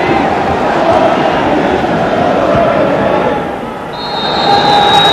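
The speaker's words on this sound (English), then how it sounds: "Tommy Coyne and Eddie May start the match in front of a noisy crowd here at Fir Park" Noisy football crowd at Fir Park stadium during a 1996/97 Scottish league match between Motherwell and Celtic, a dense, loud, continuous roar that dips briefly before swelling again.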